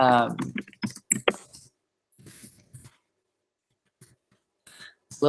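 Someone types a short message on a computer keyboard. Speech comes first, followed by sparse, quiet key clicks in short clusters with gaps between.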